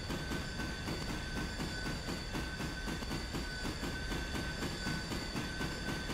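A locomotive in the Railroader train simulator game runs with a steady rolling rumble and rhythmic wheel clatter, plus a faint constant high tone, heard at low level with no talk.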